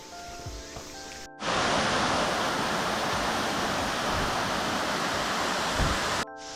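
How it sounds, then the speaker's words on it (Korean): Ssanggok waterfall in a Korean mountain valley roars as a dense, steady rush of falling water, loud and close, filling the space with unbroken white noise. "쌍곡폭포 바로 옆에 있다고 해서 들렀다 갈게요"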